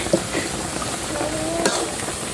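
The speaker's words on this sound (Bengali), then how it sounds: "নেড়ে চেড়ে" Mango pickle is stirred in a hot pan, giving a close, steady sizzle with a couple of scraping knocks from the spoon.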